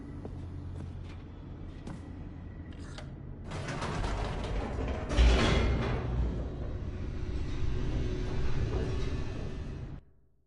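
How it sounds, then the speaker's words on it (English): Elevator machinery descending in the game The Stanley Parable: clanks and creaks give way to a grinding, rumbling mechanical roar with gear-like rattles that builds, holds steady and cuts off abruptly at the end. "The elevator raced downward,"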